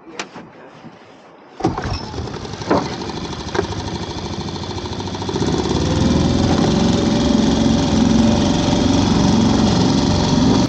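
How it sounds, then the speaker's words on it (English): A small boat's outboard engine is started on a crab pot trip, a few sharp pull-start clunks followed by the motor catching and running steadily, getting louder, close by. "Right, you ready? Come to start the engine."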